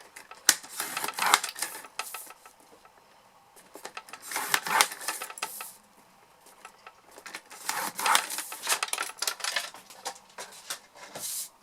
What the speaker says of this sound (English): I'm coming back in with my trimmer just because I want to score, and we're just going to score at 1/2 inch on all 4 sides